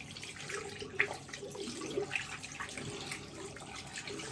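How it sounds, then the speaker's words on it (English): A tap runs steadily into a sink while hands are rinsed under it after a shave, making a soft, even rush of water with small splashes, fairly faint and with no talk. "Let me just rinse my hands under here."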